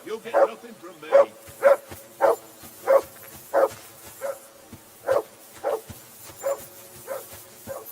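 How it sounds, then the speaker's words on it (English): A dog barks repeatedly inside the medieval video game Kingdom Come Deliverance 2, about a dozen evenly spaced, fairly loud barks with faint background ambience. "I assume you can hear that damn dog of yours barking"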